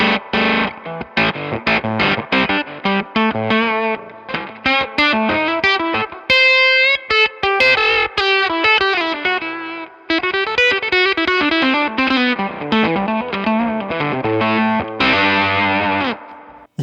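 Electric guitar through an effects pedal that mangles the tone, loud and close: choppy, stuttering bursts of notes with glitchy cutoffs, pitch-warped sustained tones and warbling chorus-like wobble across a long run of playing, with no voices.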